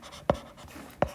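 Chalk or marker strokes on a board in a quiet classroom during an electrical lesson on apparent power, two short sharp scratching taps about 0.7 s apart.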